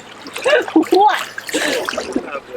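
Water splashes and sloshes as a hooked steelhead thrashes at the surface during fall river fishing, choppy bursts close by with voices mixed in.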